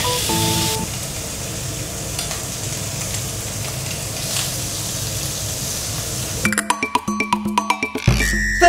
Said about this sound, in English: here are my personal tips to make bacon which is crispy and soft